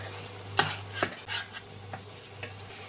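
A spatula stirs and fries a spice paste with a little water in a pan for yam curry, producing a handful of scraping knocks and clinks over a steady low hum, with no talking.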